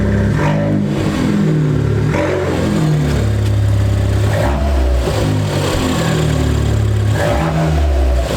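A car engine, an ST with a newly fitted dump valve, is revved repeatedly from idle, each blip of the throttle rising and falling in pitch, loud and close with no voices.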